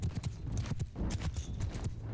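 Horse hooves clip-clopping in the Mount & Blade II: Bannerlord video game, a steady galloping rhythm of close, thudding beats repeating across the whole stretch with no talk over it.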